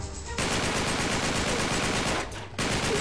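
Continuous automatic gunfire in Uncharted 3, a dense loud stream of rapid shots that breaks off briefly before resuming.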